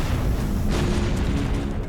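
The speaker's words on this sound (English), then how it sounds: "That was a lot of chain explosions." A dense, continuous roar of rapid chain explosions in the video game Overlord, rumbling together, loud and close, with a sharper burst partway through.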